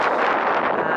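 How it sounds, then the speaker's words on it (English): Wind buffeting a handheld camera microphone at a beach resort in Goa, India, a loud, continuous roaring rumble filling the whole moment with no pauses. "it's too windy"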